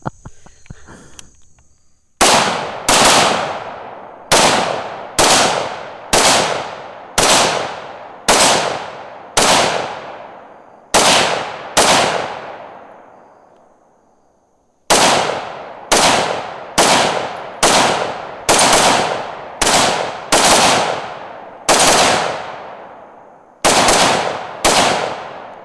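Bushmaster ACR rifle fired in about a dozen sharp, loud single shots at an even, fairly quick pace, each with a ringing tail, broken by two short pauses and followed by a final pair of shots.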